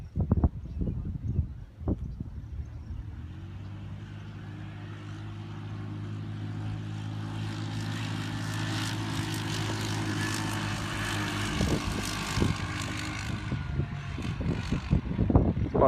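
Two ATVs, a 2016 Honda Rubicon and a 2008 Yamaha Grizzly 700, drag race across a quarter mile of grass field, their engines droning steadily and swelling louder toward the end, with a few sharp knocks early on.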